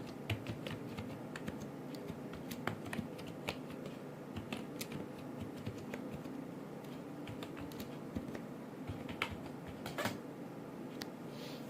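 Typing on a computer keyboard while working in MS Word: a rapid, irregular patter of light key clicks, close and fairly quiet, continuing steadily throughout with no voices.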